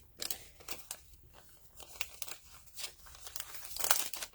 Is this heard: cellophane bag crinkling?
yes